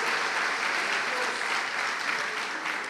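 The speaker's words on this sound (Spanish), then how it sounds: "Damos fuertes ofrendas de palmas a nuestro Dios" A church congregation claps together in a dense, sustained burst of applause, steady and fairly loud throughout with no break.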